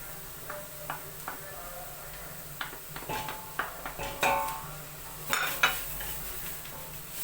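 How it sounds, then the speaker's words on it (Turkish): Carrots and other vegetables sauté in a pot for a creamy vegetable soup: a soft sizzle beneath repeated sharp clinks and scrapes of a stirring utensil against the pot, close and irregular. "Şöyle havuçlarımı da kavuracağım."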